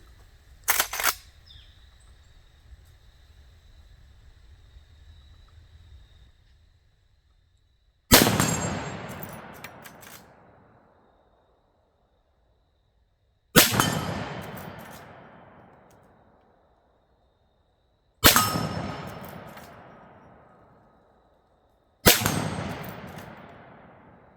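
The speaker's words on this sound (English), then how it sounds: "I decided to shoot some more ammo" A Henry 360 Buckhammer rifle fires four loud outdoor shots spaced several seconds apart. Each crack rings out in a long, fading echo, and a faint metallic clink comes a few seconds before the first shot.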